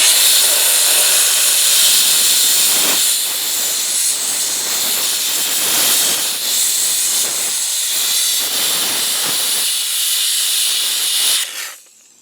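A Wagner Spraytech steam cleaner blasts a chain with a loud, steady hiss of steam that runs continuously at close range before cutting off abruptly at the end.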